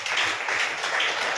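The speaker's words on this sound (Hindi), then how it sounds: "बजाओ ताली यीशु के नाम में" Congregation clapping at a church service, a steady burst of applause from many hands, fairly loud and uninterrupted for its short length.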